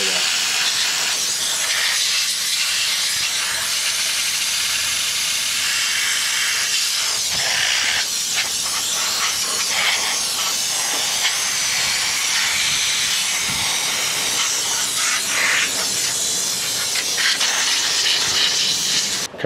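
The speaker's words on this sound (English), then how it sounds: "to get out all the residual dust that I have up inside of these filters here." Compressed air blows hard to clear residual dust from PC filters, a loud, continuous broadband hiss that stays steady and close for the whole stretch with no talking.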